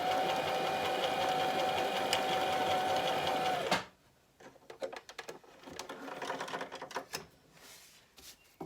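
A sewing machine runs steadily, stitching across both sides of a zipper on a fabric pouch. The close, continuous mechanical whir lasts a few seconds, then stops and gives way to light handling clatter and clicks.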